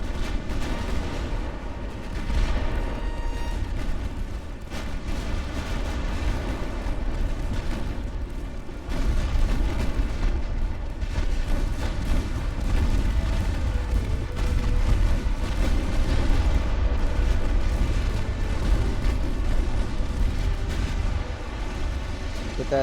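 Naval shell fire from Ultimate Admiral: Dreadnoughts, an 1890-era warship battle against a heavy cruiser: a steady dense roar of distant booming gunfire and explosions rolling on throughout, with a voice talking over it.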